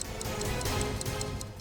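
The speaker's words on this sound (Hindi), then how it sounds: "घड़ी की आवाज?" A clock-style bomb timer hidden under a car ticks in a quiet, even rhythm, about five clear ticks per second, faint and alone without voices.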